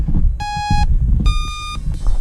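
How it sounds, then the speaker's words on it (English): A Taranis radio transmitter being switched on gives two short, clear electronic beeps about a second apart, loud and close, with low rumbling handling noise beneath. "So just that beep is telling me that it is working"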